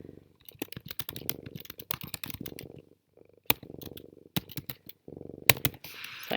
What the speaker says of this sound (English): So I'm typing in my question.